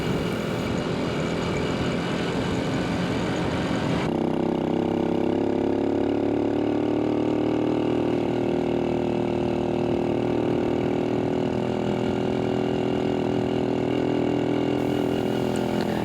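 A Grand Astrea motorcycle engine labours up a steep hill road near Cikidang, a steady, loud mid-pitched drone that shifts tone after a few seconds and then holds, droning on without any talk.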